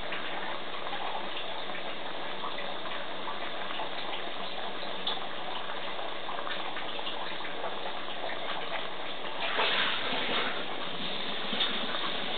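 Steady rushing of about three cups of water pouring into a cooking pot for kimchi jjigae without a break, with a brief louder splash near the end; no voices.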